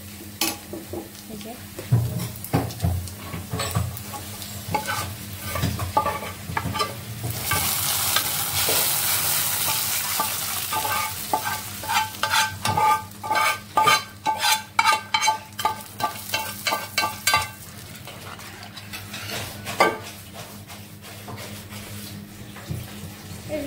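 Onions fry with cumin in a pan, a broad sizzle under repeated stirring and scraping strokes that quicken into a rapid run of clacks midway, close up with no voices.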